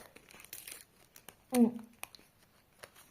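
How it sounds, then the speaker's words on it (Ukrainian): A plastic packet is opened with soft, scattered crinkles and rustles, faint and close. A brief vocal sound interrupts midway. "Наш пакетик відкриваємо."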